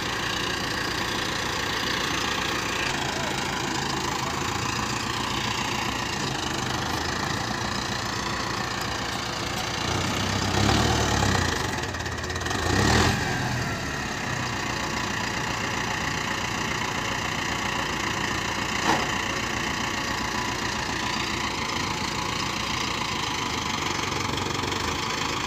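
A Mahindra Arjun Novo tractor with an RPM drop fault idles steadily through a service check, its engine humming continuously with a couple of brief louder revs midway.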